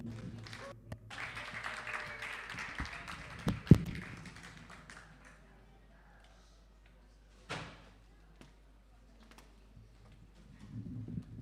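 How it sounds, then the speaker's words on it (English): An audience breaks into applause, a dense patter of clapping with a few sharp thumps that fades after several seconds, leaving scattered taps and a brief swell near the end. "please give a big round of applause"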